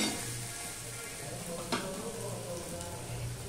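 Tomato and ginger fry in a pan with a ladle stirring through them, making a close, steady sizzle and crackle with a single sharp clink midway.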